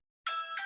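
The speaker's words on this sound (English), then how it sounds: "It's everybody's ring with the ring doorbell, isn't it?" A Ring doorbell chime rings out, a bright, clear two-part tone that starts suddenly and holds steady, close and alone with no talking.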